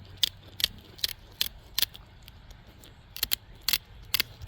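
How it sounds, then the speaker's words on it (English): Tin snips cutting through the hard armored scales of a gar fish, a series of crisp, close snipping clicks in irregular bursts with short pauses between cuts. "It's a little bit slow going, but it's very smooth to do with tin snips."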